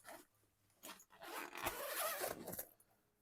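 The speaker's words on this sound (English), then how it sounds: "you can unzip this to get sunlight in, and then you can unzip this again" A zipper on the vinyl window of a pop-up camper is pulled open in a few short, raspy runs that build into a longer zip, close and fairly soft, with no talk.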